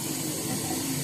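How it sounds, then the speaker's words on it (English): Warm water gushes from a tap into a bucket for washing a car, a steady, close, full hiss with no talking. "And now we need to put a bit of warm water."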